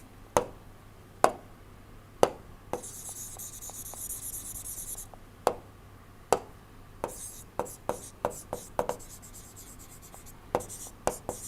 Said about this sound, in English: I am writing spark position, I am writing optimum,